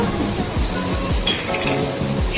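A spoon works garlic paste through onions in a hot pan with regular scraping strokes about every half second, over a constant close sizzle and a few light metallic clinks.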